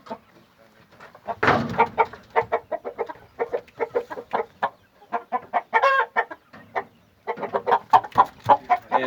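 Aseel rooster with hen feathering making rapid, repeated clucks close by, in uneven runs of short calls with brief pauses between them.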